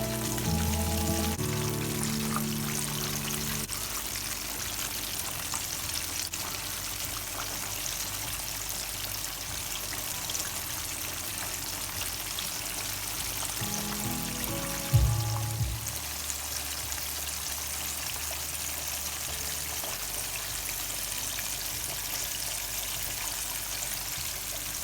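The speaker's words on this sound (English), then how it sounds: "So let's get to frying." Steady, loud sizzling of chicken frying in hot oil runs throughout, with a brief clunk midway and no talking.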